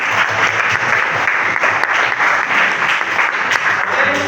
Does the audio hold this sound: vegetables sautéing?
no